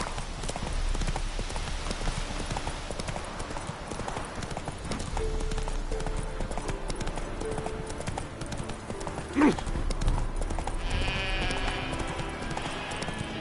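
Horse hooves clip-clop steadily in The Witcher 3: Hearts of Stone over a busy background of other sounds, with a brief louder knock partway through and a faint animal call near the end.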